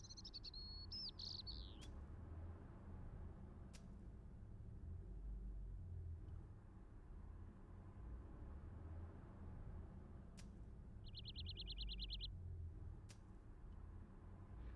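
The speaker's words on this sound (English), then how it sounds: "all I could hear was the ceaseless drone of traffic" A ceaseless drone of city traffic in the Broken Sword video game forms a quiet, steady low rumble, with a few faint bird chirps breaking in near the start and again later.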